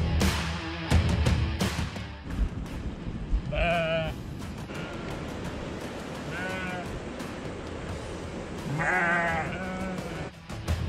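Sheep bleat at a mountain camp near Mt. Kun, several drawn-out calls standing out against a busy, rustling outdoor background, with no talk.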